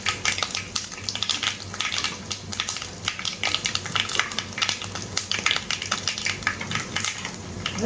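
Asafoetida powder, fenugreek and dried chilies tempering in hot oil for dhaba-style dal fry, a dense crackling sizzle with sharp spattering pops and occasional utensil clinks, continuous and close throughout.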